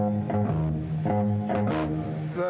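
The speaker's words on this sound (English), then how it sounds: "most bass players sound like this" Typical bass guitar tone of most bass players: a clean, rounded electric bass line with a steady run of plucked notes, loud and close, with no other instruments or talk.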